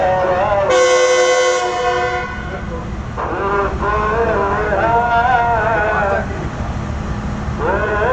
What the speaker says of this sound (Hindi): दूसरा हॉर्न हम अंदर से सुनते हैं।